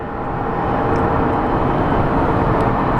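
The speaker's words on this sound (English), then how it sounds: "So up next is Southwest 2224 coming from Ontario," Southwest Airlines flight 2224 from Ontario, California, arriving at Phoenix Sky Harbor International Airport, a loud, steady broadband jet roar held close and unbroken throughout, with no talking.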